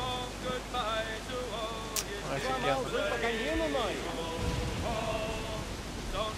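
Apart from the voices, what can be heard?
storm rain and thunder at sea in the video game Assassin's Creed 4 Black Flag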